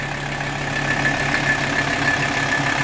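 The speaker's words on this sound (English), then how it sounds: "Look how smooth that engine is." A 1985 Mercedes 300CD engine idles steadily and smoothly, loud and close, with a constant hum and no talking.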